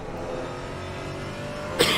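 A Porsche Cayman racing around Imola in Assetto Corsa Competizione, its engine droning steadily and loud from inside the cockpit, with a brief harsh burst at the end.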